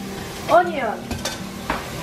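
Onion sizzles in a frying pan with a thin layer of oil while a utensil stirs it, giving a soft frying hiss broken by a few sharp scraping strokes and clinks.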